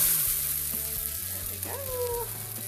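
A kimchi pancake (kimchijeon) sizzles steadily in a frying pan, a constant close hiss with a few soft knocks and a brief scrape as it is flipped.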